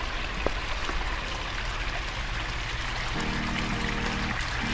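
Water from a garden pond waterfall runs steadily in a continuous close, rushing splash, with a faint low hum joining partway through.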